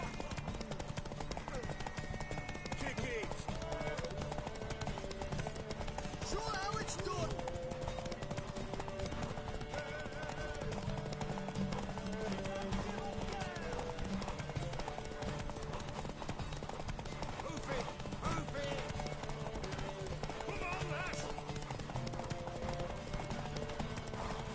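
A horse gallops in a race in the video game The Witcher 3, rapid hoofbeats drumming continuously under game music while voices talk over them.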